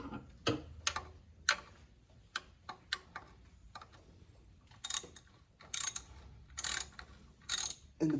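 Ratchet clicking in short bursts while loosening the small belt tensioner bolt on an Infiniti G35 engine, bursts spaced irregularly with pauses, close and fairly quiet with no talking.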